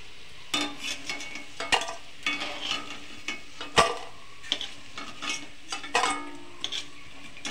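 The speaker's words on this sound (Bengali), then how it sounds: "আমি এবার নাড়িয়ে দেবো।" Fritters frying in oil in a pan are stirred with a utensil, giving irregular scraping clinks against the pan over a soft, continuous sizzle, close up with no talk.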